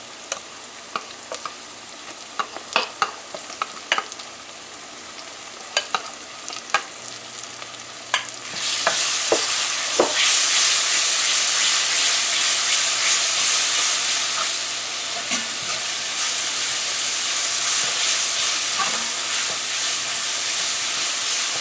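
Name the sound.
frying curry paste in a pan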